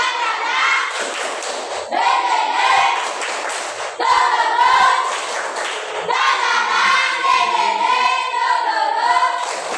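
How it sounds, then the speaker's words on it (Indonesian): A school class standing together to do a rhythmic spirit clap (tepuk semangat), with children's voices chanting in unison over patterned hand claps and thumps in several bursts. "tepuk semangat."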